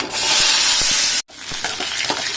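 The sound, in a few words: onion, tomato, drumstick and brinjal sautéing in a pan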